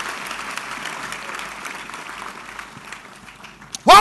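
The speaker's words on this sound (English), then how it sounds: "It's a good place to clap." A church congregation claps during a sermon, a moderate, fairly distant patter that fades out before a sudden loud voice cuts in at the end.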